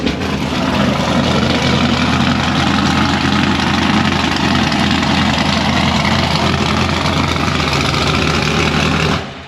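Modified Jeep engine at an outdoor Jeep Beach gathering, idling loud and close with a heavy, deep rumble that holds steady for the whole stretch before cutting off abruptly.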